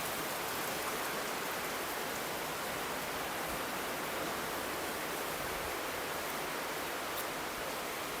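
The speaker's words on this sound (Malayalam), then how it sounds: "നല്ല മഴ പെയ്യുന്നുണ്ട് കേട്ടോ" Heavy rain falls in a dense, unbroken roar, close and loud throughout with no pauses, alone with no voices.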